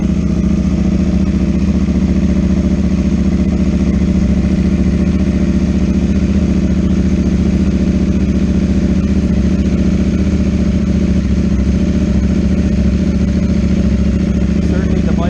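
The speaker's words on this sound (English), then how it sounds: "Certainly the bike is a bit louder." A 2022 KTM Duke 890R motorcycle with dual exhausts and a Rapidbike module idles just after a cold start. The engine holds a loud, steady, close-up rumble with no change in revs.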